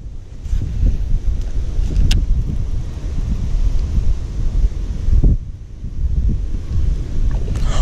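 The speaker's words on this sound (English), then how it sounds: "It's really windy. Real windy, guys." Strong wind buffeting a microphone outdoors on a fishing boat, a loud, continuous low rumble with gusty swells and brief lulls, plus a few faint knocks and clatters.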